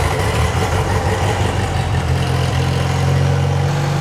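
An old tractor engine runs at a steady idle close by, a continuous low rumbling chug with no talk over it.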